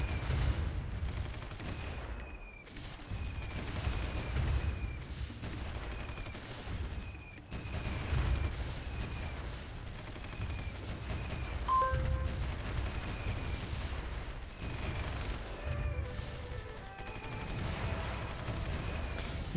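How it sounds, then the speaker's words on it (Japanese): In the war strategy game Supreme Ruler 2020, Chinese army bombing unfolds as repeated dull booms and crackling gunfire-like bursts, with small interface beeps and tones layered over a steady rumble and no speech. "中国軍の爆撃すごいな"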